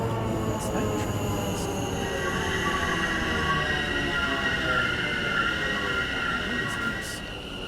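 An Elizabeth line train in the Train Sim World 5 video game runs steadily with a continuous rolling rumble and a sustained high whine, a few faint clicks up top, and the sound eases off slightly at the end.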